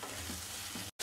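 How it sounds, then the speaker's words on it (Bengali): Spices and salt fry for aloo dum with a steady close sizzle and a couple of soft stirring scrapes, cut by a brief gap near the end. "নাড়াচাড়া করে ঢাকা দিয়ে রাখবো মশলাটা একদম ভাজা ভাজা হওয়া পর্যন্ত।"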